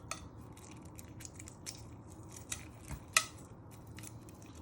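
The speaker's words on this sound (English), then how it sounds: "you want to crack all around, and you want to peel all the shell off" Eggshell being cracked and peeled off a boiled egg for Scotch eggs: scattered small crisp clicks and snaps at close range, one sharper crack near the middle, over a quiet kitchen background with no talking.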